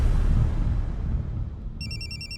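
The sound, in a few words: mobile phone ringing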